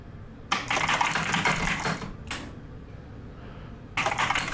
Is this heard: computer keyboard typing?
yes